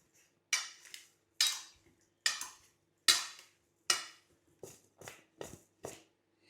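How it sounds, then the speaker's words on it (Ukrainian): Rhythmic clinks and scrapes of a utensil working through a mixture in a bowl, about ten strokes, close by and without talk. "Тепер гарно це перемішуємо ось так"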